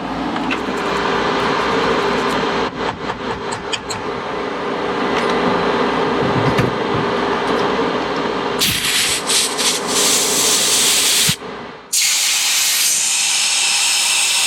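Steady gritty grinding and scraping of a small drill bit clearing nest debris from a welder runs for several seconds, growing harsher near the end before a brief pause and a final rough burst.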